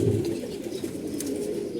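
Low, continuous cooing from several pigeons kept in a loft, a soft rolling drone at an even level with no voices.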